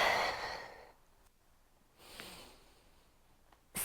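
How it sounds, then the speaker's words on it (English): Deep breathing during a pilates exercise: a long, fairly loud breath at the start, then a softer breath midway and a sharp intake at the end, heard alone without talk. "Deep breaths."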